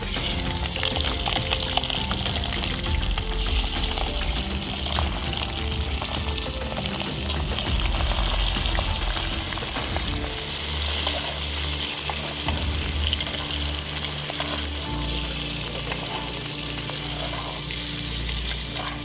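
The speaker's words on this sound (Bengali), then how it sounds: "চিলি চিকেন বানানোর জন্য ক্যাপসিকাম আর পেঁয়াজ হালকা করে ভেজে নেব।" Sliced capsicum and onion fry lightly in hot oil for chili chicken in a village kitchen, giving a steady, close, loud sizzle with faint stirring throughout and no talk.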